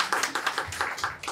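Rhythmic hand claps at a small birthday gathering, about ten fairly close, steady claps across a brief moment.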